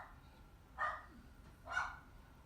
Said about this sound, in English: right now you're actually hearing my dog, by the way.